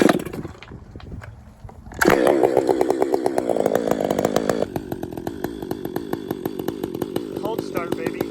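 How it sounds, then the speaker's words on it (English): A chainsaw with a square-ground full skip chain starts from cold, sputtering briefly and then roaring at a steady high idle and rev, close and loud, with a continuous buzzing drone throughout. "I'm a huge fan of chainsawing."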